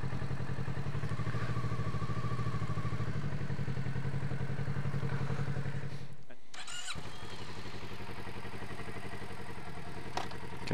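A motorcycle rolls slowly with its rear brake applied during slalom training, the engine idling in a steady low putter that briefly drops out midway before resuming, with someone talking over it.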